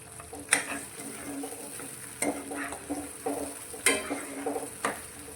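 Tomato puree sizzles and sautés in a pan for chickpea curry, with a steady fry hiss broken by several sharp scraping stirs and clinks of a spoon against the pan.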